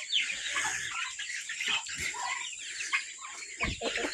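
A gamefowl hen clucks softly in a farm pen, giving short repeated clucks over a steady high background hiss, fairly faint and close.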